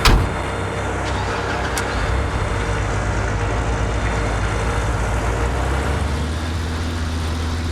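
Truck driving in Gold Rush: The Game, a steady low engine rumble that holds throughout at even loudness, with no talking.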